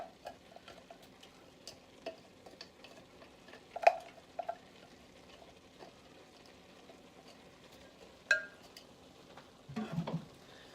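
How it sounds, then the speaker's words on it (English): A scraper pushes chopped onions into a Pampered Chef stoneware pan: quiet scattered ticks and soft scrapes with a few louder knocks near the middle and a brief rustling burst toward the end, close and without talk. "Got my onions going in. Use my scraper to get all of it."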